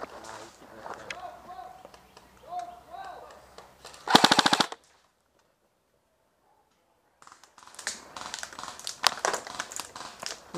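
Airsoft guns fire during an outdoor skirmish: a tight, rapid burst of full-auto cracks stands out after people talk, then silence, then scattered shots and rustling movement.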